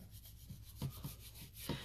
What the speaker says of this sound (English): I think blending that with the sandpaper, now the paint seems to be blending even better.